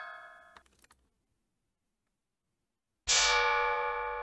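An AI-generated metal clang sound effect for a video game strikes twice, the first brief and quickly cut off, then after a silent gap a loud bright hit that rings on like a bell and slowly decays.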